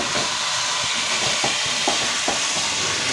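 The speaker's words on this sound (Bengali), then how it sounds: "আর এইদিকে দেখো ভাতও ফুটে যাচ্ছে" Rice boils in a pot on a home stove, giving a steady steamy hiss with a few soft bubbling pops rising through it.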